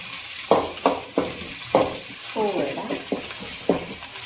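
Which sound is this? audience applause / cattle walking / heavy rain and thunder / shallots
shallots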